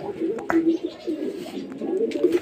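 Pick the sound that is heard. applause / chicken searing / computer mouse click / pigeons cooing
pigeons cooing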